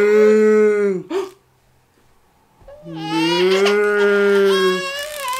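A voice imitates a cow with two long, drawn-out moos, loud and close, separated by a short pause.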